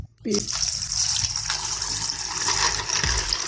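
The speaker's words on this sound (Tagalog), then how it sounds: "Lagyan natin ng tubig." Water pours steadily into a container after a brief clunk, a continuous close splashing rush with no talk over it.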